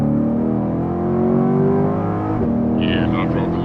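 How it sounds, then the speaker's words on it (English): A 2023 Corvette C8 Z51 and a turbocharged BMW M3 accelerate hard in a street race, the engine drone steady and loud with a brief turbo whistle rising near the end, while a voice talks over it. "Turbos kick in, and that M3 starts to pull."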